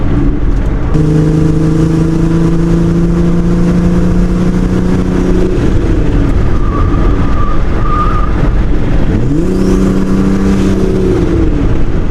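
A $1,000 minivan engine revs hard and pulls through first gear, its tone climbing steadily, dropping off, then rising again in a second loud surge, with no talking.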